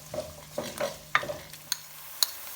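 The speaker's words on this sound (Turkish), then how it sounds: "Kavrulan etimize şimdi soğanımızı ilave ediyoruz." Soft sizzling of onion frying with meat, with stirring scrapes and a few sharp utensil clinks against a pan, close and intermittent, no talking.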